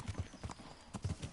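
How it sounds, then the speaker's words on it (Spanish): Horse hooves clip-clopping in a steady walking rhythm in the medieval video game Kingdom Come: Deliverance, soft and close, with no talk over them. "Me está encantando este caballo."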